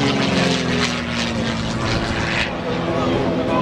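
Messerschmitt fighter with Mercedes-Benz engines, a steady droning propeller roar holding at a constant level for the whole stretch, loud and continuous.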